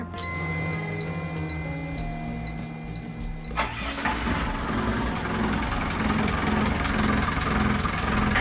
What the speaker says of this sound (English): Firing up the engine.